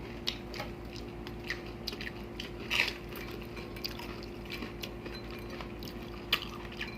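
Someone eats crispy fried dried milkfish (daing na bangus), with close, crunchy bites and chewing recurring over a steady low background hum.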